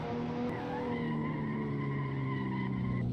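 A racing car in the Assetto Corsa video game brakes badly and crashes, damaging its front bumper, engine, left door and rear bumper. Engine drone and tyre skid sound loud and continuous throughout, with no talking.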